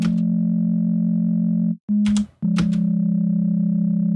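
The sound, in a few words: minor third of two sine waves through distortion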